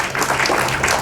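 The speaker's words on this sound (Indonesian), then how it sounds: "Tepuk tangan, jangan tanggung-tanggung." A church congregation claps together in a dense, continuous burst of applause, loud and close.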